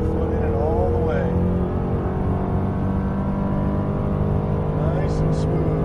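A Jaguar on a Las Vegas driving-school track accelerates hard out of a corner, its engine a loud, sustained roar throughout, with someone talking over it.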